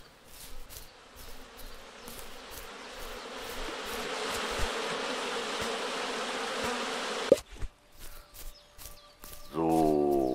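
A bee in the video game Windscape gives a steady buzzing drone that rises and holds for several seconds, then cuts off. Sharp clicks and short game tones follow.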